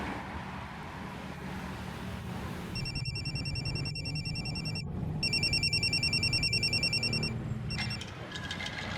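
An electronic phone ring repeats in bursts, trilling over a steady background hum of traffic or an engine, ringing on without being picked up.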